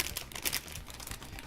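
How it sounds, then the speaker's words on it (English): Big plastic bag and small paper bag of Lego pieces crinkled and handled up close, a steady rustling crackle with sharper bursts, no talking. "look, big plastic bag, little paper bag, just like the Death Star"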